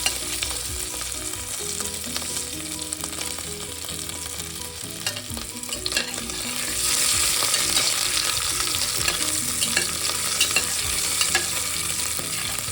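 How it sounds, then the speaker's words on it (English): Soya potato pulav mixture being stirred in a pressure cooker, a continuous close sizzle with repeated scraping strokes of the spoon, growing louder and brighter in the second half, no talk. "So I'm just stirring the mixture."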